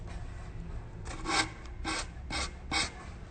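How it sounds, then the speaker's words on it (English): Used 120 grit sandpaper rubbing the edge of tissue paper on a drawer side, four short rasping strokes in an even rhythm, close and faint. "And it's just a little bit of sandpaper."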